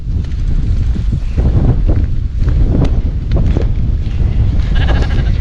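Strong wind buffeting the microphone on a wet, drab Dorset coast with sheep nearby, a loud continuous rumble with gusty surges and faint bleats mixed in.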